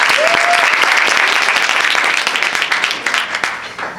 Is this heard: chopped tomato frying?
no